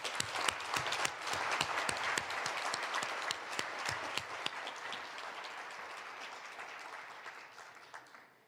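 An audience at a national prayer breakfast gives warm applause welcoming the president, with distinct sharp claps standing out over a dense crowd of clapping that gradually thins and fades toward the end.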